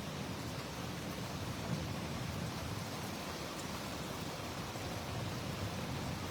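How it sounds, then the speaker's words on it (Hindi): Heavy rain pours down in Ajmer, India, in a dense, steady hiss, loud and unbroken throughout with no voices. "बाकी बारिश तो जबरदस्त हो रही है"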